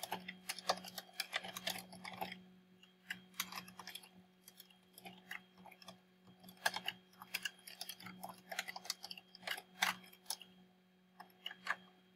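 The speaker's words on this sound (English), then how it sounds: "for the purpose of this video, I'm just going to type" Someone types quickly on a computer keyboard, with bursts of crisp key clicks and short pauses, close and quiet over a faint steady hum.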